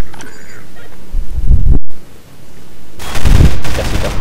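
Energy bullets from a weapon in Half-Life 2 fire in two loud, rapid bursts separated by a brief pause, each a dense rattling volley of shots.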